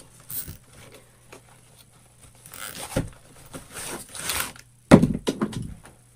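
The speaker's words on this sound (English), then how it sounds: "There we go, and just zip it up." A zipper is pulled shut during a handmade everyday wreath craft, giving a short run of scratchy, rasping strokes close to the mic, with a sharper, louder pull near the end.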